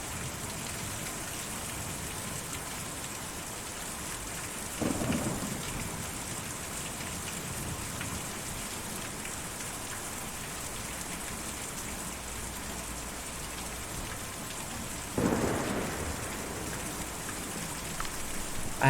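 Heavy, even rain pours in the video game Kentucky Route Zero, a constant hiss with two brief louder swells of splashing, no voices.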